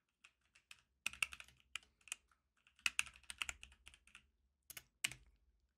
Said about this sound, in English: So I'm going to type my email address and press enter.